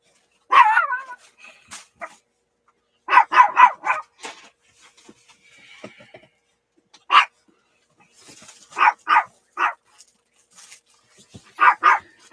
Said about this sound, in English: Sorry about that, the dogs.